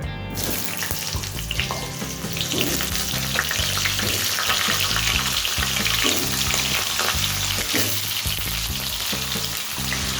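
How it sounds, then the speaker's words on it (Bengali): Cut potato pieces frying in hot oil with whole spices give a loud, dense, continuous sizzle and crackle, heard close up with no voices over it. "আমি টুকরো করে কেটে রাখা বেশ কিছু আলু এর মধ্যে দিয়ে দিচ্ছি।"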